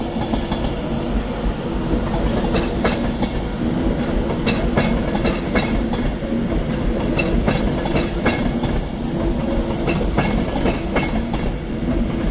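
An Avanti West Coast Class 390 Pendolino pulls out of Crewe station, its wheels clicking over rail joints in a steady rhythm beneath a continuous rumbling roar, fairly close and constant throughout.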